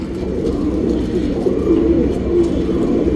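Tournament racing pigeons coo in a loft, a continuous low burbling chorus of several birds heard close and fairly loud, with no speech.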